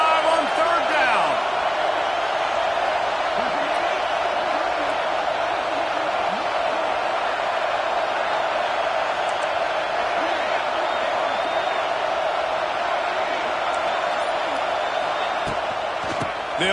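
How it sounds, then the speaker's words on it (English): Stadium crowd noise from the NCAA 26 college football video game, a steady roar from the Buckeye home crowd on third down, loud and continuous throughout, with faint swells and a few sharp accents. "The Buckeye crowd alive on 3rd down."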